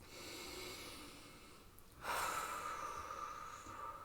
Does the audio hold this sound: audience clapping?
no